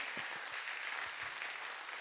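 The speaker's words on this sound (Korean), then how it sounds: "여러분 박수 한번 줍시다" Steady applause from a crowd at a university worship night, dense and continuous clapping filling the whole moment with no voices standing out.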